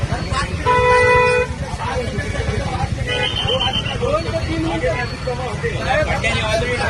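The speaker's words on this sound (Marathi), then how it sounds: "ट्रॅफिक आहे" Road traffic on the Mumbai–Goa highway at Palaspe Phata, with a car horn honking loudly for about a second amid a steady roar of engines, while people talk close by throughout.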